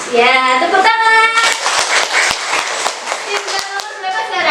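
A class of primary school pupils claps during a science lesson, with scattered sharp claps forming a loose round of applause that is mixed with voices, near and fairly loud.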